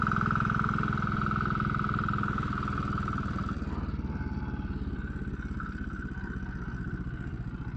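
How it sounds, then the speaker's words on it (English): A Royal Enfield motorcycle pulls up through the gears with a steady, loud, thumping engine drone heard close, its pitch dropping as it shifts partway through. "Up the gears. Gear change is actually pretty good."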